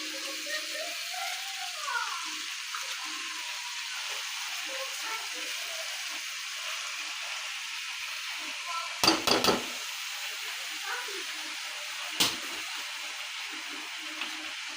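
Water spinach hitting spiced oil in a pan, cooked with chili powder for a fish-head ghonto, gives a steady close sizzle that holds throughout, with brief louder clattering bursts near the end.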